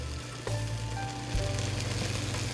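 Steady sizzling of tofu stir fry in a hot pan as low sodium soy sauce is poured in, a continuous crackle that swells louder partway through, with no talking.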